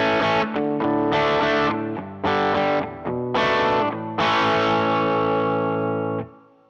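An electric guitar with distortion plays chords through a light plate reverb, a handful of ringing strums and a longer final chord that decays smoothly into a short, unobtrusive tail, alone with no talking.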